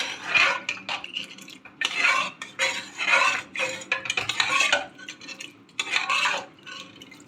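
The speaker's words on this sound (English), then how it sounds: "now we will turn on the stove and we will give it a good stir" A spoon stirs chole masala gravy with boiled chickpeas in a pan on a stove, making repeated close scraping and clinking strokes in an uneven rhythm, with no voices.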